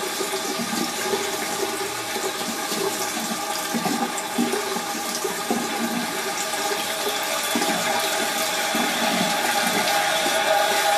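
Cold water runs steadily from a tap for rinsing the face after a shave, a loud continuous broadband splash and gush with no pauses or voices.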